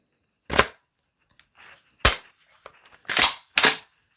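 A VFC V3 URGI 10.3-inch M4 gas blowback airsoft rifle running on a CO2 magazine fires four sharp, loud cracks at uneven intervals, with faint mechanical clicks in the quiet gaps between them.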